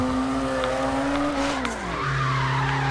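Tires squeal in a long sustained screech over a revving engine as a Nissan S14.5 slides through a drift on a mountain touge road in the video game CarX Drift Racing 2, pitch shifting as it turns.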